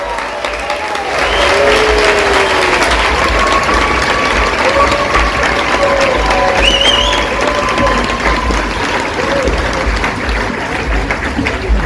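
Festival audience applauding and cheering to welcome former Australian Prime Minister Kevin Rudd, steady dense clapping from a large crowd with scattered whoops for about twelve seconds.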